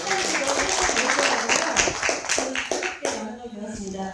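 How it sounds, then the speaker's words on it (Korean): Audience clapping at a Suwon city public hearing on a landscape plan, individual claps distinct and fairly close in a quick uneven rhythm, with a voice speaking over the clapping. "박수 한번 쳐주세요"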